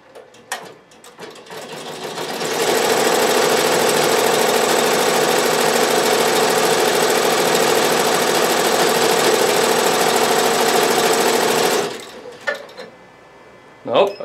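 An Avancé embroidery sewing machine fills in a design area, its loud, steady, rapid mechanical stitching rattle running nonstop for about nine seconds before stopping, with faint handling noises around it.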